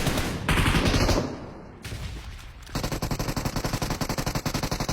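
Gunfire in the battle royale game PUBG: a loud sustained burst up front, a short lull, then rapid, evenly spaced automatic shots that keep going to the end, with no speech.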